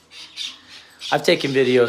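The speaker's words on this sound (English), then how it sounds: "You can hear them squawking. They're squawking" Young society finch chicks squawk in a few soft, repeated calls, and then a closer, louder burst of harsh, rapid squawks follows, with no speech.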